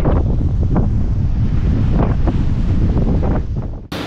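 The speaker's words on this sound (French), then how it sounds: "il y a du vent, il y a des bonnes rafales de vent" Strong gusts of wind buffet the microphone on an island hotel rooftop in Belize overlooking the ocean, a loud continuous roar with surging bursts that briefly drops near the end.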